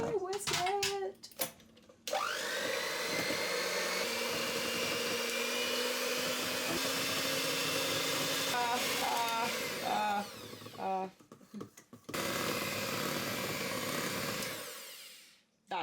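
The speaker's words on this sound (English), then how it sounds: "And let's whisk it!" Electric whisk whipping 16 ounces of cream for a chocolate tres leches cake, a steady loud motor whir running for about ten seconds with brief stops and restarts, ending in quiet.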